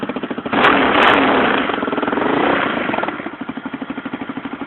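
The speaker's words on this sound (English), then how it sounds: "Let's just try and have a listen to the engine exhaust." A quad bike engine revs up loudly through its FMF exhaust, holds, then drops back to a lumpy, pulsing idle, close by with no talking.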